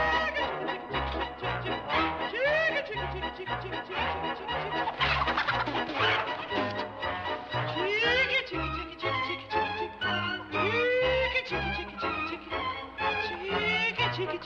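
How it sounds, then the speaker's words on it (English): Chickens, including a rooster, cluck and squawk continuously on a farm, several birds calling over one another at close range with a rhythmic backing of music underneath. "You want to scare all my chickens off."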